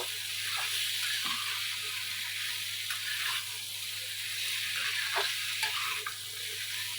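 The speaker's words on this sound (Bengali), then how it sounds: "এখন মিষ্টি কুমড়া দিয়ে একটু হালকা নাড়াচাড়া করে নেব" Sweet pumpkin and potato sizzle and fry steadily in a pan for a vegetable dish, with soft intermittent scrapes and stirring strokes over the continuous hiss of hot oil.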